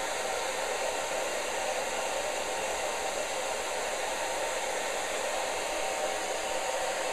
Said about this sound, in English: I'm going to hit it with the blow dryer